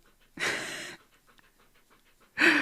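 A dog panting hard after playing: two bursts of rapid, breathy panting close to the microphone, separated by a quieter pause.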